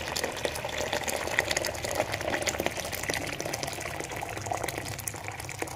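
Boiling water being poured into a pot, heard as a steady, close, continuous splashing and gurgling wash of liquid for several seconds, no voices.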